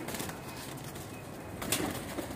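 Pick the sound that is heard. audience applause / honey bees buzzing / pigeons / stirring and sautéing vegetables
pigeons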